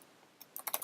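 Computer keyboard keys tapped in a short burst while typing into a web form, a few quick clicks close and fairly quiet, with no talking over them.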